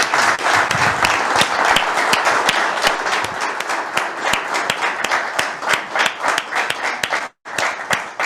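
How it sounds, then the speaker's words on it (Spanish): Audience at the annual assembly of a Chilean supermarket association applauding a minister, a dense burst of many hands clapping that thins into scattered claps near the end. "así que le damos otro gran aplauso"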